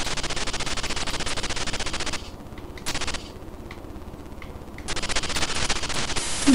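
Rapid, harsh 8-bit gunfire from the Amstrad CPC game Asphalt rattles in continuous bursts, loud and close, drops to quieter static-like noise for a couple of seconds, then resumes.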